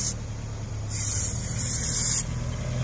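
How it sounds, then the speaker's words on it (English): The engine of a 1999 Kia Sportage with an overheating problem idles steadily up close, a continuous low rumble that rises slightly in level partway through, with no talk. "You could hear it idle up."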